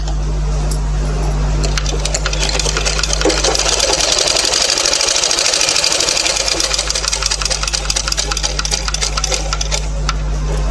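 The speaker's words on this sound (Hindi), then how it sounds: "तो अभी हम यहाँ से यहाँ तक एक आधा इंच छोड़ के सिलाई डाल देते हैं, और यहाँ हमें डबल सिलाई डालनी है।" A sewing machine runs steadily while stitching a double seam on fabric during tailoring, its close, continuous mechanical whir with rapid needle clicks carrying on alone for the whole stretch over a low hum.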